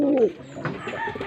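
Pigeons cooing close by, a soft throaty coo at the start followed by fainter rustling and murmuring sounds.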